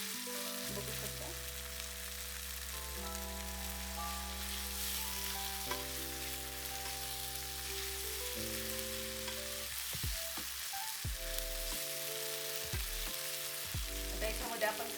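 Spices fry in oil in a pan for veg dum biryani, giving a steady, dense sizzle that runs throughout beneath prominent background music.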